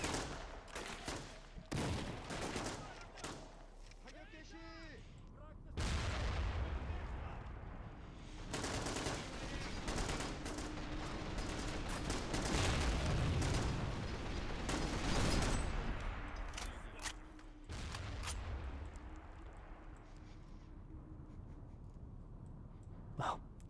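Battle sounds from Men of War: Assault Squad 2 as North Korean troops storm a Cold War coastal fortress held by Soviet forces, with dense bursts of gunfire and heavy booms that rise and fall over about twenty seconds of continuous combat noise.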